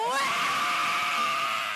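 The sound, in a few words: screeching vocal from Ireland's Eurovision Song Contest entry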